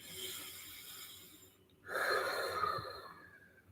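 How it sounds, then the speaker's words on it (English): Two deep breaths close up, a long airy inhale followed by a short silence and then a louder, forceful exhale. "So I'm going to breathe."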